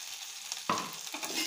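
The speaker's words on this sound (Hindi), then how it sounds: "मटर को डाले पैन में" Peas frying and being stirred in an oiled pan, a soft sizzle broken by a sharp clatter of a spoon against the pan midway, close with no talk.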